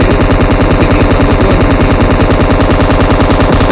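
Sustained automatic gunfire during an attack in the mobile battle royale game BGMI, a loud, continuous rapid rattle of shots filling the whole stretch with no talk.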